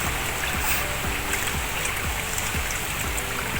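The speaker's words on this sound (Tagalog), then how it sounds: "Ang bigas po namin, hinuhugasan po namin dito sa buro-buro sa tubig po." Rice being washed by hand in water in an outdoor stream or pool, a steady close sloshing and trickling with rhythmic swishes about every half second and no talk.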